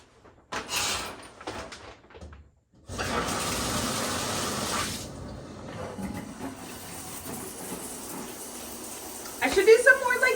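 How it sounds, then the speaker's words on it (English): Water runs in a home shower, a steady hiss that starts and stops with door and handling noises, then settles into a continuous spray before a brief louder clatter at the end. "I'm gonna go shower."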